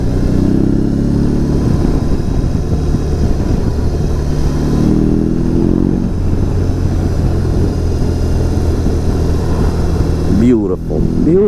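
A BMW R 18 B bagger motorcycle's boxer engine rumbles at idle and is revved a couple of times, loud and near, with talk over it.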